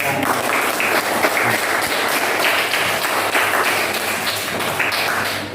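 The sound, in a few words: applause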